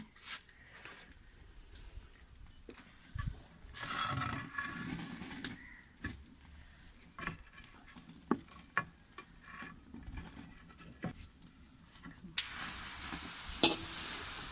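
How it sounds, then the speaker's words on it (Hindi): Grated carrots stirred in a wok over a low flame, with soft intermittent sizzling and scraping strokes, irregular clacks and brief louder bursts, fairly quiet overall. "आप इस तरह इसे पलटते पलटते रहें ताकि नीचे ना गाजरें लगें"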